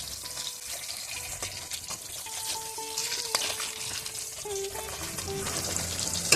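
Beef sautéing in oil left over from frying onions, a steady close crackling sizzle that runs throughout, with occasional faint clinks and tones from the kitchen.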